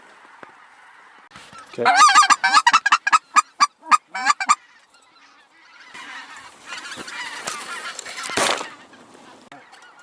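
Specklebelly geese honk in a rapid burst of loud, near calls, followed by quieter rustling and a louder honk cluster, while a hunter briefly speaks.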